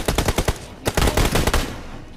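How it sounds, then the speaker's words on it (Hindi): Rapid bursts of SKS rifle fire in a mobile battle royale match against a team of YouTubers, loud, close shots in quick strings with a brief pause before a second volley, with no talk. "अभी सामने से बंदूकबाज की टीम का लास्ट बंदा आता है, तो मैं निकालता हूँ SKS"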